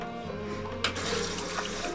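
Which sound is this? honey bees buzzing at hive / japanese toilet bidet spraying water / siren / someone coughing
japanese toilet bidet spraying water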